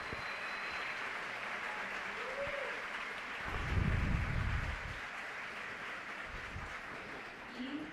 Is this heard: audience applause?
yes